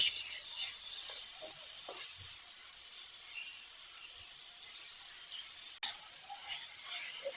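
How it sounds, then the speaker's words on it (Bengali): Chicken pieces cooking in a pan as a pizza topping, giving a steady, soft sizzle and hiss that runs throughout, with faint stirring scrapes and a brief clatter near the end. "তারপর চিকেনটা দিয়ে দিলাম চিকেনটা রান্না করে নেব"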